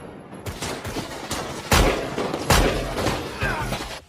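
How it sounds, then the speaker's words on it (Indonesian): Rapid bursts of gunfire crackle back and forth, with several louder shots punching through a dense, echoing barrage of firing. "Setelah itu, baku tembak pun dimulai."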